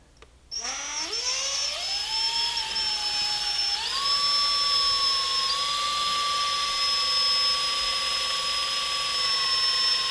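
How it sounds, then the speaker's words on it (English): A power drill with a cobalt-tipped bit spins up sharply and then whines steadily as it bores through a part on a Yamaha YZF-R3 motorcycle, its pitch rising and settling, loud and close. "This is where cobalt tip drill bits come in really handy."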